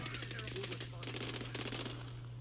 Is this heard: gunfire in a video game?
yes